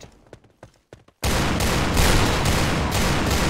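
Brief soft talk, then a sudden loud burst of sustained rapid gunfire in a video game on a snow map, continuing densely to the end, close and harsh.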